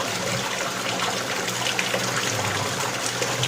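Dirty water gushing steadily out of a double-membrane water refilling filter during backwash, a continuous close hiss and trickle that stays even throughout with no pauses.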